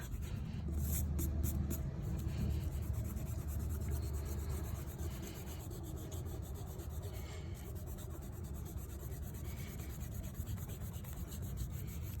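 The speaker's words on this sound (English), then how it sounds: "I'm just gonna take a minute to erase out all my little guide marks" Pencil eraser rubbing out guide marks on drawing paper, a faint, steady scratchy rubbing that continues throughout, close and quiet, with no talking.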